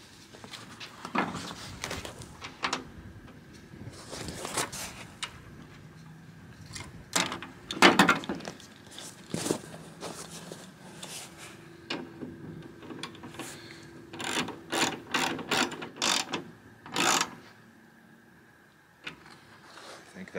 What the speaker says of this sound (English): I'm going to go ahead and bolt it back down now.